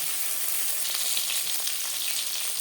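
Rohu fish pieces frying lightly in oil for a thin Bengali curry, giving a steady, close, hissing sizzle that stays even throughout with no talking.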